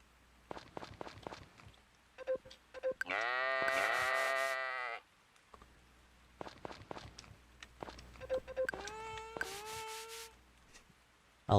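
Alpacas in the farming game Story of Seasons give two drawn-out, bright, warbling calls, each lasting a second or two, between light repeated footstep taps. No one speaks.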